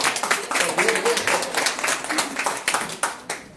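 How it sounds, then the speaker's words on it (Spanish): A church congregation applauds their pastor at an evangelism workshop, brisk clapping from many hands throughout, fading toward the end, with voices talking over it. "un aplauso también para nuestra pastora"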